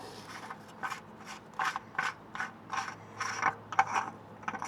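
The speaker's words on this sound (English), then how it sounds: "so that filter, you know, the housing and all, is it supposed to like tighten on there?" Repeated rasping, ratcheting scrapes as the oil filter housing on a 2008 Toyota Sienna is turned, about nine short strokes in an even rhythm, close and moderately loud.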